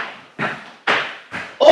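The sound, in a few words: stomping thud imitating an angry stomp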